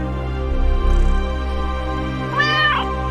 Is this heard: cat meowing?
yes